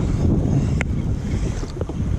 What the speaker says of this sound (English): I hope you can hear this wind.